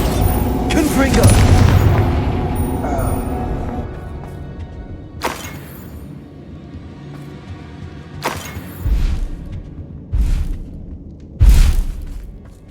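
Confringo spell blasts in Hogwarts Legacy: a heavy booming burst with rumble early on, then several sharper explosive impacts spaced a few seconds apart, fairly loud, with some voices and game sounds mixed in.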